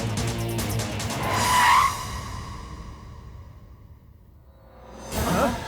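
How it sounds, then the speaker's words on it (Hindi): A car tears away with squealing tires and a rising engine whoosh that fades into the distance, followed by another brief swish of passing traffic. "गाड़ी भगा।"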